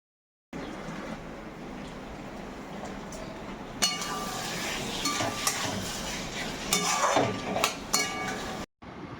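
A utensil scrapes and clinks against a pan in irregular strokes over a steady low sizzling hiss as tomatoes, potato and cabbage are stir-fried, close and fairly quiet.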